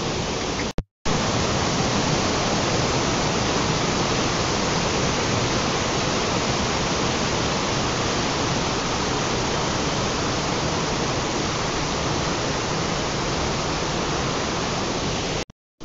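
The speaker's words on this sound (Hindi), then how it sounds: "आप लोग वॉइस सुनो पानी का बहुत ही अच्छा साउंड आ रहा है" Constant rushing water roars steadily and loudly at a zoo in Jamshedpur, India, a dense unbroken flow like a nearby waterfall, briefly cutting out near the start and end.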